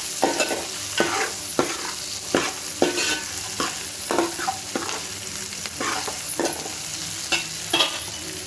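Curry leaves and pre-fried eggs frying in a pan, with a steady broadband sizzle and about a dozen sharp scraping stirs of a spoon against the pan, close and fairly loud, no talking.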